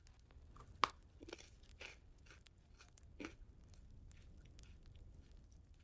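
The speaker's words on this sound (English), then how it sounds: "and then we bite into it like an Oreo" A cream-dipped sandwich cookie like an Oreo is bitten and chewed up close in a quiet ASMR setting: one sharp crunch, then a few softer crunches and chewing sounds spread over several seconds, with no talk.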